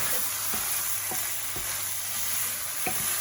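Steady sizzling of chicken and vegetables frying in a pan for fajitas, with a spoon scraping and stirring at a regular rhythm every half second or so, no voices.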